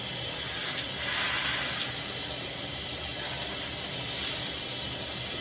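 A shower runs steadily with a soft, even hiss of spraying water, fairly faint, with occasional brief splashes as it hits a body.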